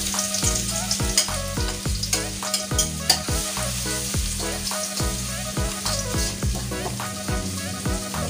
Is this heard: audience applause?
no